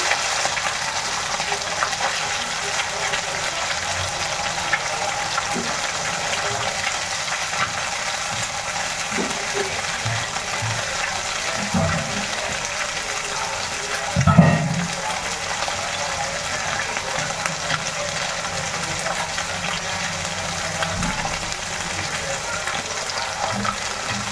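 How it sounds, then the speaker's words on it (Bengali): Small fish frying in a pan, a steady crackling sizzle throughout with occasional spatters and scrapes, one louder clatter midway, and someone speaking briefly over it. "ছোট মাছটা প্রায় ভাজা হয়েই গেছে।"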